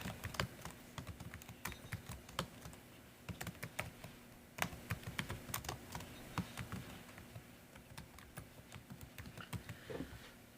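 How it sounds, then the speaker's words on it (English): Quick, irregular keystrokes on a computer keyboard patter steadily for about ten seconds, close by and fairly quiet with no talking. "I'm going to type it in the chat."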